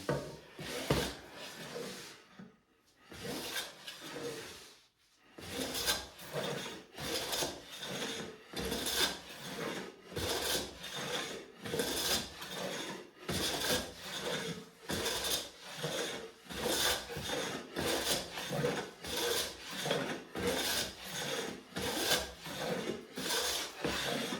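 A hand plane fitted with an indexable carbide blade is pushed across a hickory board, making a long series of rhythmic rasping strokes, each a short scraping burst, close and steady.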